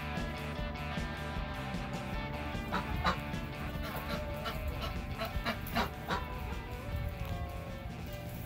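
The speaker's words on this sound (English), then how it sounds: "Dang-on birds." Birds call outdoors with honking, squawking cries like geese or ducks, repeating at intervals against a steady background hum, moderately distant.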